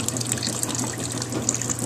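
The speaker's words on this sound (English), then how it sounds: "So the water, I'm letting the water gently fluff off instead of patting or scraping." A gentle stream of tap water runs over a puppy during a wash, a close, steady splashing flow with faint drips and no voices.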